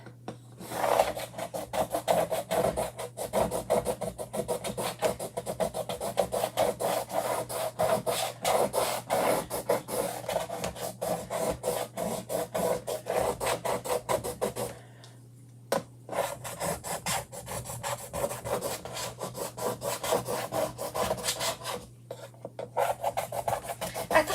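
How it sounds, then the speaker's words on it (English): Chalk Couture paste is scraped off a chalk-coated surface in a long, dry, steady rasp of repeated strokes, close and moderately loud, pausing briefly partway through. "Just scraping this off before you guys"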